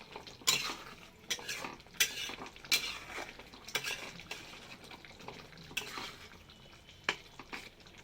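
A spoon stirs prawns and potatoes in a pan of curry with coconut milk, producing repeated close scraping and clinking strokes at an uneven rhythm over a low sizzle, with no talk.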